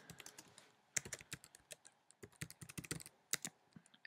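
Computer keyboard keys are typed in quick, irregular bursts of crisp clicks, close and fairly quiet, with no voices present.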